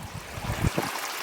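Water tumbles steadily down a garden pond waterfall, a close, continuous splashing flow with no voices over it.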